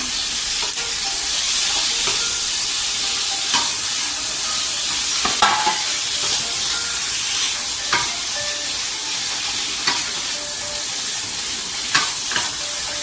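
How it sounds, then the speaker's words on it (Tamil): Two chopped tomatoes are stirred into kadai chicken fry in a kadai, with steady loud frying and sizzling throughout and scattered scrapes and clicks of a spatula against the pan, no voices. "இப்போ கட் பண்ணியிருக்கிற 2 தக்காளி அதை ஆட் பண்ணிக்கலாம்."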